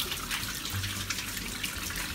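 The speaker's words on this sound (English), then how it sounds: "go wash your hands" Hands being washed under a running kitchen tap, a steady close rush of water with splashing and slight variations as hands move through the stream.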